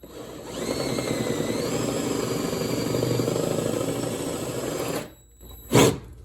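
A router bit cuts a recess for a router lift insert, a steady loud whining grind lasting several seconds, then stopping abruptly, followed by a brief clunk.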